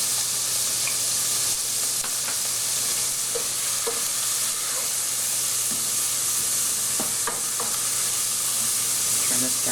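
Fresh tomatoes, beans and onions frying for a bison chili, with a steady hiss of splattering and sizzling throughout and occasional sharp pops and stirring clicks close by.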